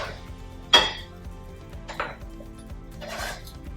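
Chopped dried shrimp scraped off a chopping board into a bowl, a sharp clatter of utensil against dish, a lighter scrape a second later, then a soft rustling slide, close and quiet otherwise.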